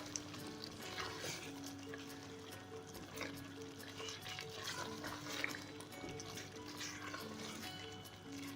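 Chicken and a spice mixture fry in oil in a pan, giving a gentle, continuous sizzle with soft stirring scrapes. It is close but fairly quiet, with no talk over it.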